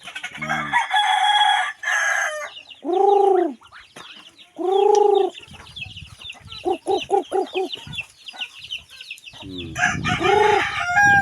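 A rooster crows loudly twice, long drawn-out calls, with hens clucking in rapid bursts around them and chirping birds in the background.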